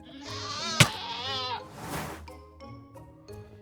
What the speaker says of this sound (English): now that we have two screamers that we can breed with, all of our goats can be screaming